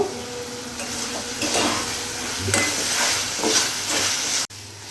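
Katla fish curry with potatoes sautés in a pan over a medium gas flame, giving a steady sizzle and hiss with scraping stirs of a spatula and a brief clatter near the end.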